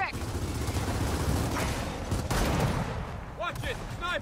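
Sniper gunfire in the Gears of War 4 video game, heard as a dense, steady barrage of shots and battle noise with a few sharper cracks near the end, alongside a voice.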